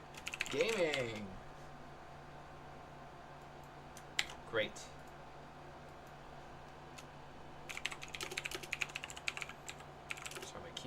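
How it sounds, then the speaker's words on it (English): Typing on a loud computer keyboard during a gaming session, with rapid close clacking bursts near the end, a few isolated clicks earlier, and brief speech at the start. "Sorry, my keyboard's a little loud"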